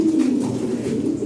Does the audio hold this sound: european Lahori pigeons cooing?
yes